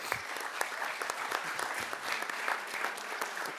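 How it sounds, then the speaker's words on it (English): Applause for an Eagle Scout at a city commission meeting: a steady, dense round of clapping from a seated audience, moderately loud and continuous for a few seconds with no talk over it. "Give him a round of applause"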